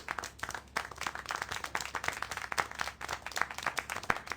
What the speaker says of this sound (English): How can you clap?